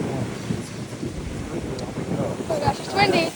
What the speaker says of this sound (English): Oh gosh, it's windy. It's windy.